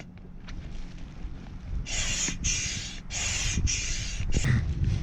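A hand pump inflates a kitesurf kite, starting with a low rumble and then four or five strong rhythmic hissing air strokes, each about half a second long, close and fairly loud over a windy outdoor background.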